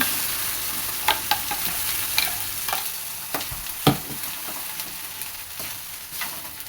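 Oil sizzles steadily in a pan while a spoon scrapes and taps against the metal in short, irregular strokes, close up, as ground masala is added to the tempering for an okra and potato gravy.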